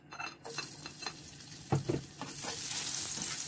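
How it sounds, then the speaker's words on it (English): Garlic fries in a pan for crispy pork belly with sweet and sour chilli sauce, giving a close, steady sizzle broken by a few stirring scrapes; the crackle builds toward the end. "Garlic, cook cook until brown."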